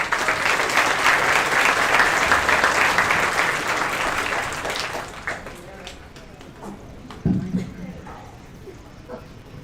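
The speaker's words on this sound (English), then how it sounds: "a nice warm applause for our JOC President" An audience at a Lawrence County CTC 2021 commencement ceremony claps in a loud, sustained burst for about five seconds, then the applause fades to scattered claps and the room quietens.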